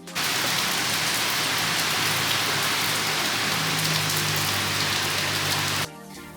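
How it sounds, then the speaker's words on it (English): Steady, dense rain pouring down nonstop, a loud wash of drops hitting surfaces close by, ending abruptly near the end. "It's still raining"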